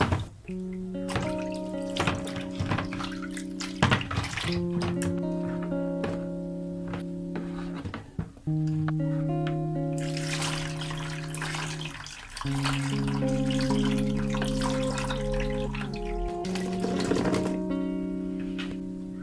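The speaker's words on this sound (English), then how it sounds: "go in with some clean water and rinse my potatoes again as shown in the video" Potatoes are rinsed in clean water for homemade chips: repeated splashing and sloshing bursts come and go close by, with a melodic tune playing underneath throughout.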